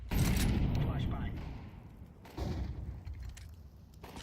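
A flashbang grenade goes off in Counter-Strike 2 with a sharp burst at the start that fades over about two seconds, followed by a second muffled blast, while gunfire and game sounds carry on in the background.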